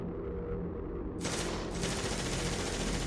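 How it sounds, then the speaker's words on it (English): Dense, continuous gunfire rattles throughout, a sustained barrage of rapid shots with a sudden louder burst partway through. "I heard gunshots."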